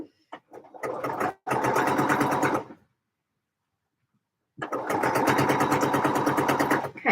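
A sewing machine runs in two bursts of rapid, even stitching, loud and close, separated by a pause of silence.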